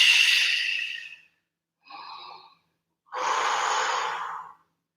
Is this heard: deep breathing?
yes